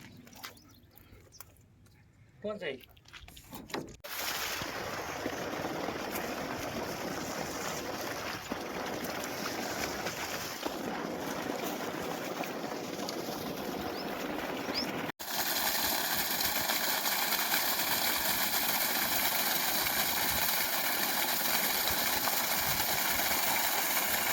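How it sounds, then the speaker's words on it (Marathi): A 5 HP solar water pump pushes water on a farm around midday, a steady rushing flow with a faint motor hum that starts after a few seconds of quiet clatter and grows louder near the end. "शेतकरी पाण्याचा प्रेशर पाहून घ्या"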